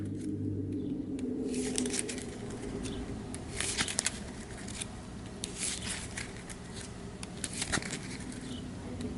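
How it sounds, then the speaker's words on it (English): Cards from a Dune Imperium deck being shuffled by hand, soft riffling and patter with scattered crisp snaps, fairly quiet and close, no voices. "So now I'll give this a shuffle."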